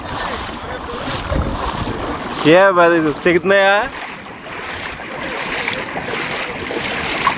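A boat crosses open water near an island in East Godavari, with a steady loud rush of wind and water throughout while people talk over it.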